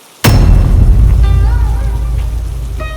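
A sudden loud crash of thunder opens a stormy night downpour, booming close by and then decaying into a sustained heavy rumble of wind and rain that fills the rest of the clip.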